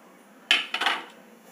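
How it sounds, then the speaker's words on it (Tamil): Apple and Banganapalli mango being mashed together in a bowl for a fruit punch, heard as a few quick close clinks and scrapes of utensil against the bowl with no talk. "இதுவும் போட்டு அப்படியே அப்படியே ஸ்மாஷ் பண்ணிக்கிறேன்"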